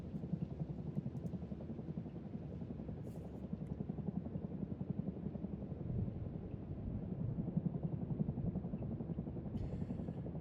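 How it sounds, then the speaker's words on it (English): A video game helicopter drones continuously with a steady rotor thump, faint and unbroken, with no talk over it. "I like their helicopter sound a lot more than Rust."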